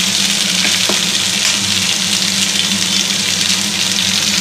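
Drumsticks frying in mango oil in a pan, a loud, continuous close-up sizzle with a steady hiss and low bubbling that holds evenly throughout.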